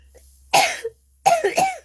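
Two separate coughs from one person, close and fairly loud, each a harsh burst with a short rough tail, the second longer and broken into several quick hacks, with quiet gaps before and between.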